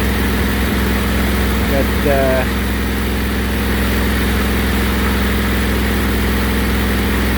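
A Briggs & Stratton replacement engine runs at a steady idle, a loud, continuous low droning hum with a constant vibrating rumble, close to the microphone, with a short spoken word briefly over it.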